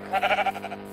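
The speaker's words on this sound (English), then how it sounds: "sheep." A sheep bleating in the Minecraft video game, one short wavering bleat with a rapid pulsing tremble, close and clear with no talk.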